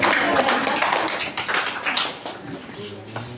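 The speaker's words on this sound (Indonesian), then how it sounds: "Semuanya tepuk tangan." An audience applauds teachers at an award ceremony with a brisk burst of many hands clapping nearby that gradually thins and fades, with voices mixed in.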